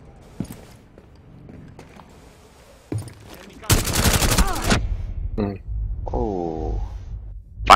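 Bursts of gunfire in Rainbow Six Siege, scattered single shots followed by a loud sustained automatic volley and further sharp reports, with voices talking between them.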